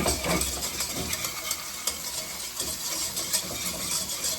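Flour roux cooking in a pan before milk is added, giving a steady soft sizzle with scraping stir strokes throughout, close and continuous with no talking.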